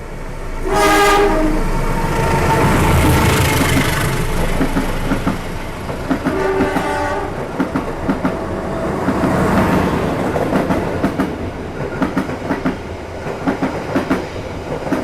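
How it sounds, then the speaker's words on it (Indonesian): Matarmaja passenger train, running from Malang to Pasar Senen, speeds straight through a station on track 2 with loud, close horn blasts near the start and again midway, over heavy rumbling wheels and clacking cars. "Itu dia tadi kereta api Sawung Galih dan juga kereta api Matarmaja."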